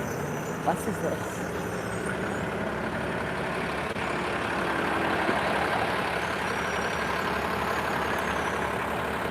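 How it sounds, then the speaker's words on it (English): A TTC New Flyer city bus in Toronto rumbles with a steady low engine drone, a faint hiss of air brakes mixed into the continuous street noise, and voices talking faintly underneath. "What bus is this?"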